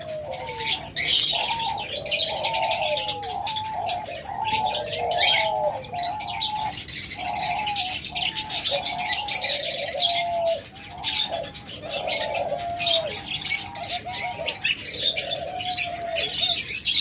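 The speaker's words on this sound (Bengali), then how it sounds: "দেখুন কত চমৎকার ডাক দেয় এগুলা, ডাকটা আপনাদের দেখাইলাম" Caged pet birds, including doves and small parrots such as lovebirds, budgerigars and cockatiels, give a repeated run of cooing calls, with bright chirps and twittering and some wing flapping throughout; no talk.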